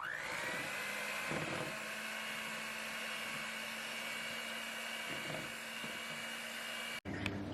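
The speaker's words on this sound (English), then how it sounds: "Now with my electric mixer, I'm just going to beat this until it becomes thick." An electric mixer beats a keto mixture until thick, a loud, steady whirring drone with a sustained motor whine that cuts off abruptly near the end.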